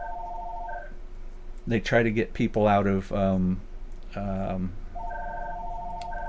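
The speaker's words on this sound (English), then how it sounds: "the phone's ringing right now." An electronic telephone ring sounds in repeated pulsed tones at the start and again at the end, with a person talking in between.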